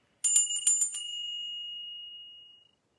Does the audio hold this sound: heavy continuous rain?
no